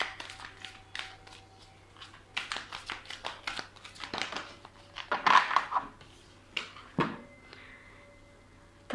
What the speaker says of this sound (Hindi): एक मिनट और एक और बार शफल कर लेते हैं